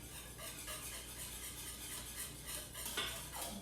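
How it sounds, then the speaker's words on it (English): Carrot muffin batter with coconut oil whisked in a bowl, quiet rapid clinking and scraping strokes in a steady rhythm, close up with no voices. "Yep, keep whisking. You want all those ingredients to combine."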